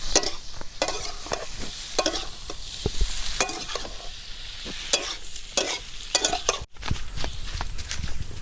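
Paneer cubes sizzle in a hot pan for a pasta dish while a spatula stirs and scrapes them in repeated, rhythmic strokes over a constant frying hiss, close and fairly loud, with a brief cut near the end.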